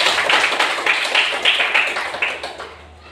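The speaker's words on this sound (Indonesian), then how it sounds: "Tepuk tangan." Students in a Hindu religious education class clap their hands together in a short burst of a few seconds, sharp overlapping claps fading out toward the end.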